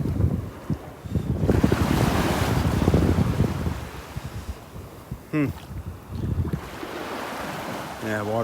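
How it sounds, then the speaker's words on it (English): Gulf surf at Delnor-Wiggins beach breaking along a shallow ridge, a rushing wash of waves under heavy wind buffeting the microphone, with brief bits of nearby sound cutting in. "The waves breaking right along this little ridge"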